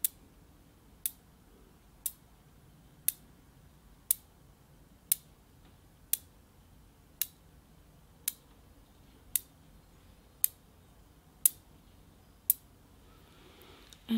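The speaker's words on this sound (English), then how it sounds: "So I'm going to click these together to kind of spark that as much as possible." Small objects are clicked together in a slow, steady rhythm for a Reiki ASMR energy session, about fourteen crisp, close taps roughly one second apart over a quiet background.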